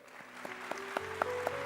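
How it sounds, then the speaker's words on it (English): Applause from an awards-ceremony audience at the ET Awards 2024, a steady wash of clapping with a few louder individual claps standing out, moderately distant and without talk over it. "Round of applause, please."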